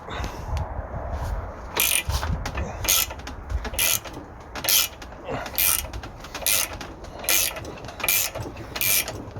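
Large 90mm spanners crank a bushing press tool with a receiver cup on the rear wishbone of a 2004 Audi A4 B6. Bursts of metallic clicking and scraping come in a steady rhythm, nearly one every second, close and fairly loud.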